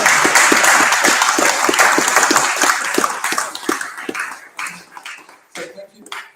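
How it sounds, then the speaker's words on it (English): A seated audience claps steadily in warm applause at the close of a launch event. It starts full and close, then thins out and fades to scattered claps. "And a round of applause for Edward."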